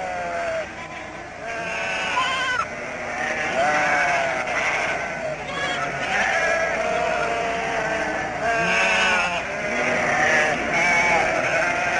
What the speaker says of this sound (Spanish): ¿Qué cantidad de ovejas tienen? Son 750 en total.